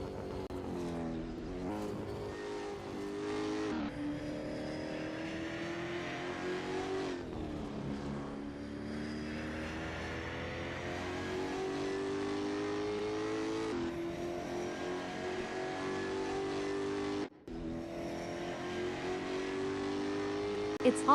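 A race car lapping a track during qualifying in a sim racing game, its engine droning and revving with gear-change steps over a long stretch, steady and close, with a voice talking over it throughout.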